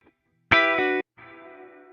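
Guitar through reverb with a lengthened pre-delay: a bright half-second note cuts off, a brief gap of silence follows, then a quieter reverberant copy rises and sustains.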